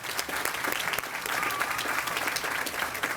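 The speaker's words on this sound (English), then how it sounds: "give him a round of applause for that leadership" Sustained applause from an audience at a grand opening ceremony for a housing commons, honoring a state representative; steady dense clapping fills the whole stretch at moderate volume.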